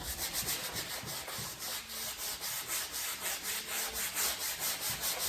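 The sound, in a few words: brush scrubbing oil paint into canvas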